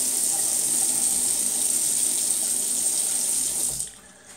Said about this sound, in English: Just gonna wet the face.